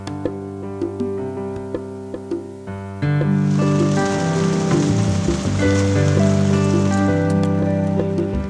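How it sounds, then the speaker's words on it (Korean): Rain falls steadily on a mountain village after a dry summer, a broad hiss that thickens partway through and runs beneath gentle music. "여름 내 메말랐던 산골 마을에 단비가 내립니다."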